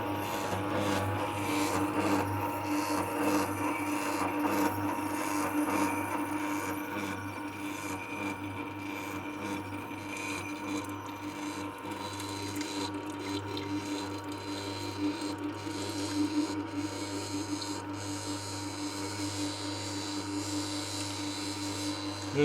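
A Kuvings juicer running with smoothie fed in, a steady low motor hum with faint rubbing and grinding over about twenty seconds, close and even, with no talk.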